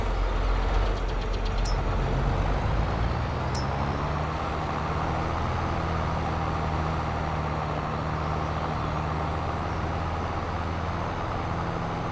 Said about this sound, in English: So glad we got this tractor.